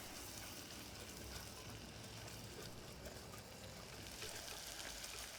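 Broken dried chilies fry in a pan, giving a steady, dense sizzle that holds at an even level throughout with no one talking.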